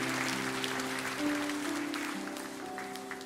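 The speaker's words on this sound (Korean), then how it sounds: "큰 박수로 우리 다음 세대 한번 격려하기 원합니다." A church congregation claps steadily, a soft spread-out patter of applause with a faint sustained tone running underneath.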